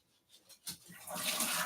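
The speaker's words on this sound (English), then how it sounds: "Let's just rinse my hands again." Hands rinsed under a running kitchen tap while making fishcakes, a few soft splashes at first, then a steady, fairly loud rush of water that grows and holds to the end.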